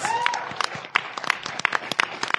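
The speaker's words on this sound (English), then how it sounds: "Give yourselves a round of applause, please." A live podcast audience at Dragon Con breaks into applause, a short burst of many hands clapping with scattered sharp claps and faint crowd voices, fairly close and lively.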